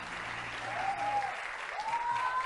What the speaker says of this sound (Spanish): a quien brindo un fuerte aplauso.